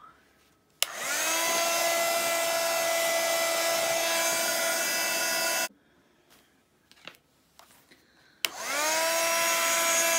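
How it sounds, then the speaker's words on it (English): A heat gun blasts close by, setting mixed-media craft paste on a 3D festive Christmas clock, with a loud steady whine that runs for about five seconds. It cuts off briefly, leaving faint handling clatter, then starts up again. "we'll get the heat gun and we'll just set that now"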